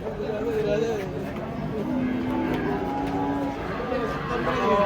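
A cow being unloaded from a truck moos in long, drawn-out calls amid a bustle of people chattering nearby, the lowing rising clearly above the crowd noise.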